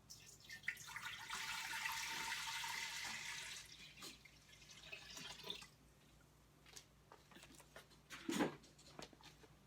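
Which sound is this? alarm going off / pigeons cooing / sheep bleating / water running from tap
water running from tap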